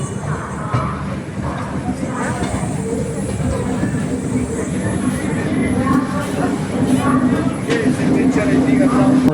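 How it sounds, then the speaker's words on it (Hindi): Inside a passenger train creeping slowly into Deen Dayal Upadhyaya station, a steady low rumble and rattle of the carriage runs under murmuring voices of people talking nearby. "अपनी ट्रेन दीन दयाल उपाध्याय इंटर कर रही है एकदम स्लो रफ्तार में"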